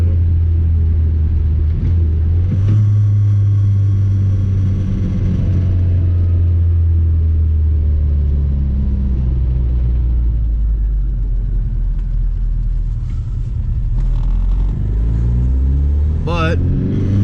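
A 1993 Rover Mini's engine drones steadily at about 3,000 rpm while cruising just under 60 mph, a loud low rumble from inside the car with someone talking over it.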